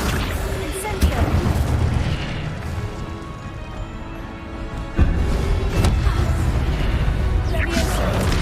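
Spell effects from the Hogwarts Legacy game: fire, levitation and summoning charms cast one after another, with loud booming bursts and crackling swells that recur over a dense, continuous game soundscape, while a voice calls out spell names.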